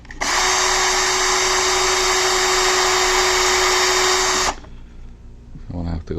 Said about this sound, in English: If you're using the 256 drill tap